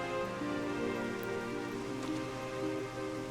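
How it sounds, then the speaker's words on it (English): Steady rain pattering on surfaces in the video game Final Fantasy XIV, constant and close, with a low tonal hum underneath and no voices. "Does it ever stop raining in the zone?"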